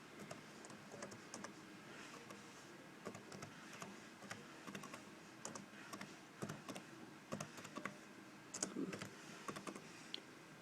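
Quiet, close tapping on a computer keyboard as a command is typed, with irregular keystrokes running steadily throughout and a few louder clacks.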